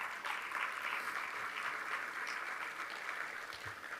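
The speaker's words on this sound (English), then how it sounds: "Yes, let's applaud that." Audience at a small business awards ceremony applauding, a steady dense wash of clapping from a crowd lasting several seconds, slightly distant and moderately loud.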